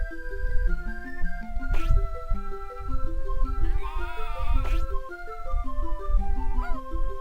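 Cartoonish sheep bleat repeatedly over a bouncy melodic chiptune soundtrack in the Game Boy Advance video game Sheep, with short tonal bleats layered on stepping music notes.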